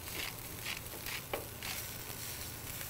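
Spinach fries in oil in a pan for a Korean bibimbap, a soft, steady sizzle with faint stirring scrapes, heard alone and fairly quiet.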